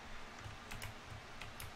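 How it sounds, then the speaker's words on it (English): Keys clatter on a computer keyboard in a few quick, uneven bursts of clicks, close and fairly quiet over a low steady background hum. "Wait, why am I typing?"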